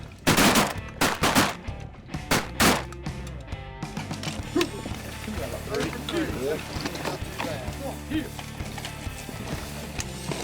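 Several shotgun blasts fire in quick succession at ducks during an Arkansas duck hunt, loud and close, followed by quieter rustling, movement and background voices.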